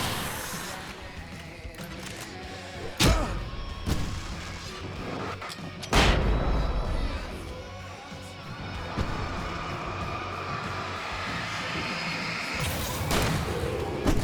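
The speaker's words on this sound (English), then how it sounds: "I can set off 4 of the fireworks from here and help you out!" Fireworks going off at a stage area in Alan Wake Remastered: a steady loud rumble of bangs, with sharp cracking bursts near three, six and nine seconds and again toward the end, while someone speaks over it at times.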